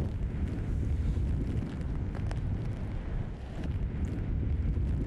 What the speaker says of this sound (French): Bolaven, c'est son nom, est notamment passé sur l'île d'Okinawa, avec des rafales de vent pouvant atteindre jusqu'à 250 km/h.